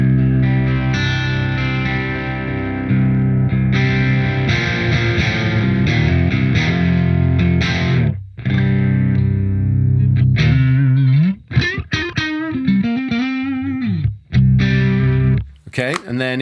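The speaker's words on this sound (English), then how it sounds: "this is the sound of the guitar straight in, no effects, no pedals" An electric guitar plays straight into a Soldano SLO amp plugin with no pedals or effects, giving sustained distorted chords that ring out and then break into quicker picked notes and short stops, loud and alone.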